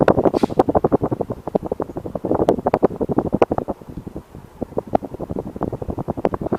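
Air from a 52-inch Emerson Casablanca Designer Series ceiling fan buffets a nearby microphone in a quick, rhythmic stream of soft whooshing gusts that stay loud and close throughout.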